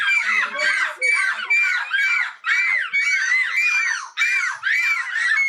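A contestant at the annual European Seagull Screeching Championship in Belgium imitates a seagull's screech with their voice, giving loud, repeated, wavering calls in quick bursts close to the microphone.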